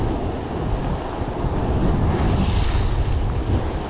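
Strong crosswind roars against the microphone over heavy sea swell breaking along a kelpy, shallow stretch of UK coastline, forming a dense, constant rush with no voices.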